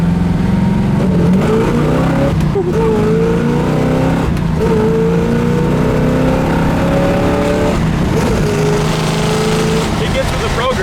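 1969 Camaro SS with a 427 engine revving hard while driving, loud rising engine sweeps climbing through the gears with shifts between pulls, close and continuous.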